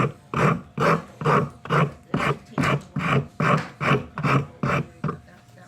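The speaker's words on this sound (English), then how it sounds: "Personally, I prefer to use a larger rasp like this." A large coarse-toothed wood rasp shaping a hand-carved wooden spoon, about eleven even, rasping push strokes in a steady rhythm, loud and close with brief pauses between each stroke.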